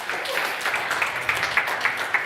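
An audience applauds at the opening day of an EdTech hackathon, a dense wash of many hands clapping at a steady level with a few louder claps poking through, slightly distant in the room.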